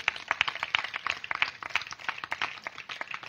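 Applause from an audience gathered at a church family blessing festival in Kanuru, a dense run of rapid claps from many hands, steady and moderately close.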